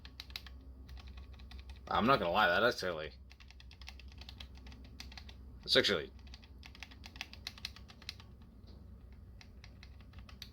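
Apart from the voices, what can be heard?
mechanical switch buttons clicking on Sunwaytek H510 controller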